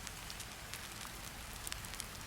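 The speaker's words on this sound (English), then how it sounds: "Rain fades into distance." Steady soft rain falling, a faint even hiss with scattered light droplet ticks and no voices.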